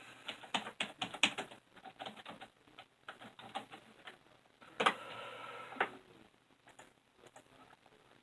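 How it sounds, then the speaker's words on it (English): Typing on a computer keyboard: bursts of quick, close key clicks with short pauses, including a sharper clatter of keys partway through, quiet with no talk. "I'm going to type it up first because I want to"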